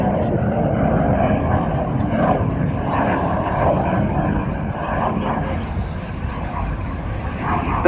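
A BAC Strikemaster jet makes a flying pass at the Southport airshow, its engine a loud, sustained roar that swells and eases slightly, while a commentator talks over it throughout.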